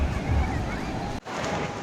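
Ocean surf washes steadily onto Colva Beach in Goa, a continuous broad rush mixed with wind buffeting the microphone and faint crowd murmur, briefly cut off partway through.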